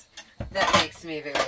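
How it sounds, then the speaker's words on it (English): A big metal pot clanks as it is slid down into a drawer in an RV interior, a brief close rattle of cookware, followed by a spoken voice. "And now this big pot fits down here."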